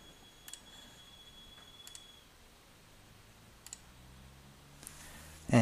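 Sparse computer mouse clicks sound while stepping through a software installer, a few soft isolated taps spaced seconds apart over a quiet room hum, ending with a louder rustle or bump.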